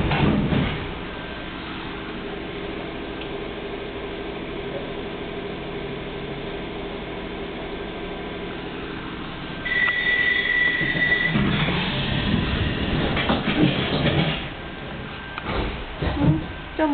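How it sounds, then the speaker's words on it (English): London Underground tube train running above ground outside London, a steady carriage rumble and hiss that swells louder partway through with rattling and squealing tones, close and continuous with no talk. "Just gives you an idea of what it's like travelling on the underground outside of London."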